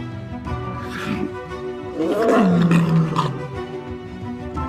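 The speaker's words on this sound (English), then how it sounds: "Their roars, echoing up to 5 miles away, serve as resounding alarms across the land." Lions roaring on the Serengeti savannah: a deep, loud, drawn-out roar that swells and falls in pitch over a couple of seconds, set against a continuous background bed of sound.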